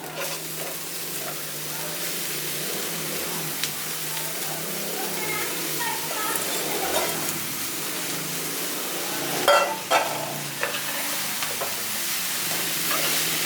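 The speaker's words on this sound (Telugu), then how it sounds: "ఇప్పుడు ఆనపకాయ ముక్కలు వేసుకోవాలి" Thinly sliced bottle gourd pieces fry with turmeric in a pan, making a constant close sizzle that runs throughout, with spatula scrapes and a brief louder clatter near the end.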